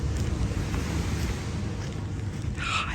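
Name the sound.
ocean waves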